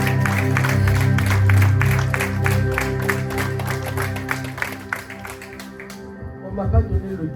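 An audience in a church claps and cheers, a thick sustained ovation over music that fades out near the end, leaving a few scattered claps and sounds.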